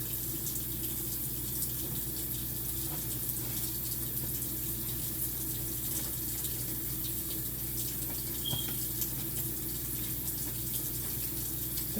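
Water runs from a sink faucet in a steady, fairly quiet stream during handwashing, an even hiss and patter that lasts throughout, with no one speaking.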